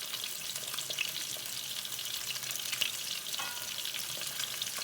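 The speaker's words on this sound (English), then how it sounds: "Always be careful while frying fish." Fish fries in hot oil in an Odisha home kitchen, giving a steady, close, hissing sizzle with small pops and crackles throughout, with no voices.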